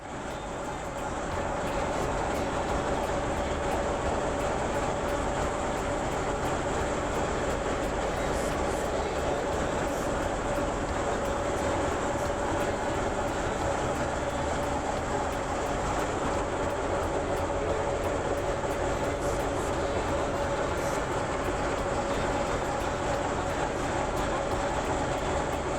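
Heavy steam-era ship engine room machinery aboard the SS Great Britain in its Bristol dock, a steady loud continuous mechanical drone with a sustained hum and busy rattling texture, no talk over it.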